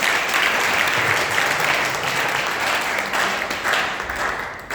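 A church congregation gives a warm round of applause after a hymn during a Sunday mission service, a dense, even wash of clapping that holds steady and fades slightly at the end.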